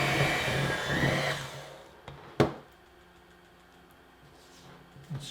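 An electric mixer whirs loudly through peanut butter cookie dough for about two seconds, then cuts off, leaving a couple of sharp knocks and quiet kitchen background.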